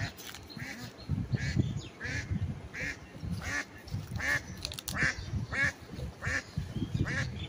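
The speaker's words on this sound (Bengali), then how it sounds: "তুই দেখেন একটি কুকুরে হাঁসগুলা তাড়ান দিয়েছে। আপনারা শব্দ শুনেন।" A flock of ducks quacks repeatedly and loudly after a dog chases them, the calls coming in rapid overlapping bursts outdoors.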